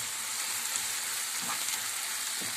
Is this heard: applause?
no